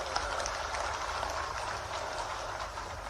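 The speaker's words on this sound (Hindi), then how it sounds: "मैं सभी से निवेदन करता हूं कि जोरदार तालियों से उनका स्वागत करें।" Dense, sustained applause from a large crowd welcoming the chief minister at the opening of the Vindhya trade fair in Satna, a continuous wash of clapping with no breaks throughout.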